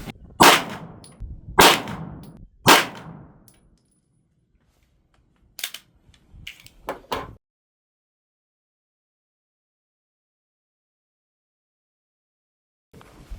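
A pistol fires Ammo Inc. Sierra match hollow point target rounds: three loud, sharp, evenly spaced shots, then a few quicker, fainter cracks and clanks, followed by a long silence and one last click near the end.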